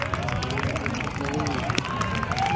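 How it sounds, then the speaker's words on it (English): Scattered applause from a small crowd at a baseball game at Paul Thomas Senior Stadium, steady light clapping mixed with crowd murmur and talk throughout. "So a smattering of applause from our crowd here at Paul Thomas Senior Stadium"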